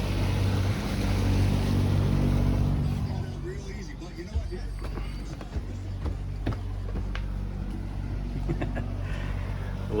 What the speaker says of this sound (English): A little 25-foot Ranger tug.